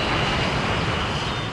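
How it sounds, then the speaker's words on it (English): Steady broadband roar of a twin-engine passenger jet's engines, loud and constant with a faint high whine running through it, no voices. "The 300 is the latest in the world's most successful line of twin-engine passenger jets."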